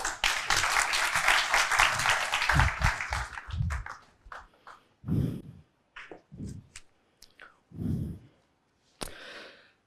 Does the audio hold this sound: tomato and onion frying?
no